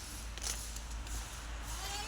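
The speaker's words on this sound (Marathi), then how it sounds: "हे बघा शेळ्या." Goats at a village farm bleat faintly in the morning, a few short cries over a steady low background hum.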